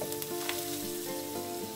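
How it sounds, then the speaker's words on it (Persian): A grated large onion sizzles and crackles steadily in oil in a pan, a continuous frying hiss with faint clinks and stirring scrapes, no voices. "یه پیاز بزرگ رو رنده کن و بریزش توی روغن"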